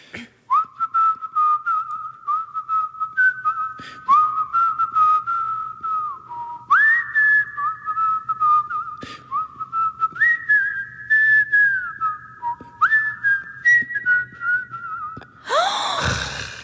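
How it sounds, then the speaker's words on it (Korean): A person whistles a pop song live in a radio studio: clear, melodic whistled phrases rising and falling over about fifteen seconds, close and prominent, ending with a burst of noise. "휘파람이 너무 감미로운데요?"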